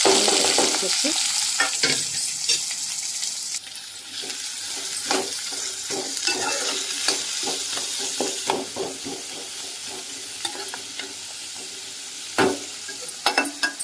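Washed chicken goes into hot oil and fries with a loud, watery hissing sizzle that settles into a steady crackle, punctuated by repeated stirring knocks and scrapes close by.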